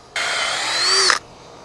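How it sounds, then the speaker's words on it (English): A cordless power drill whirs loudly for about a second while driving screws into boards for a garden retaining wall, starting and stopping abruptly with a slight rise in pitch before cutting out. "probably not a good thing when your drill starts smoking"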